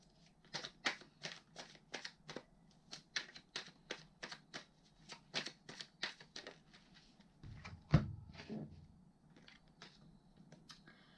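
Tarot cards shuffled by hand in a quiet room, a steady run of crisp riffling flicks for about seven seconds, then a soft thump as the deck settles, close and fairly faint.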